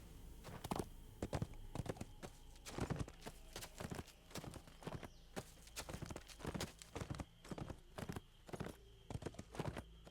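Horse hooves clip-clop steadily in Dungeons and Dragons Online, a close, continuous run of sharp hoof strikes over a faint ambient bed with no talking.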